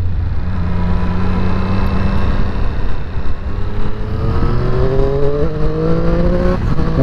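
Triumph Triple RS motorcycle accelerating on an open road to overtake, its engine note climbing steadily through rising gears, loud and close over constant wind and road roar.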